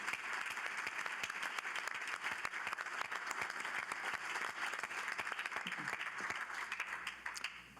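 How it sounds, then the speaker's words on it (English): Sustained round of applause from a summit audience honouring founding partners, dense even clapping that holds steady and fades slightly toward the end. "So let's give a round of applause for our founding partners."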